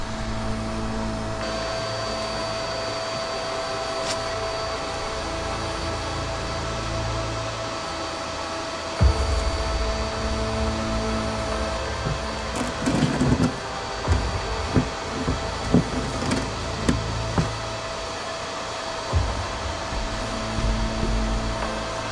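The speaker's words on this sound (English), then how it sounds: "we deployed our custom bee vacuum designed to gently collect bees without harm" A bee vacuum's steady mechanical motor hum drones throughout, removing African bees from a pool pump, with bursts of rattling and clatter in the second half, close and continuous.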